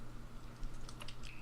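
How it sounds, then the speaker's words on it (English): Light, irregular clicks of keys being typed on a computer keyboard, fairly quiet over a low steady hum. "typing like this."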